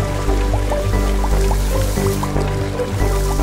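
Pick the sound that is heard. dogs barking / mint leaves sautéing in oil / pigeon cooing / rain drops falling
rain drops falling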